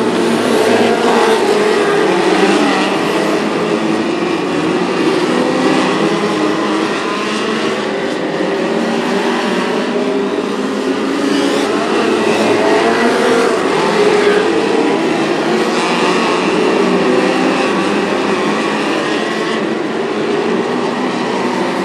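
Race cars roaring around the Macon Speedway track during a POWRI night race, a loud, dense, continuous engine roar that swells and fades slightly as the pack passes.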